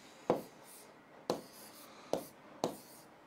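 Writing on a board in a classroom lesson: four sharp tapping strokes spaced about a second apart, each followed by a short scratchy trail, close and fairly quiet with no talk.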